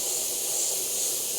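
Steady hiss of an airbrush spraying paint onto a skull design, a close, continuous airy spray held at an even level for the whole moment.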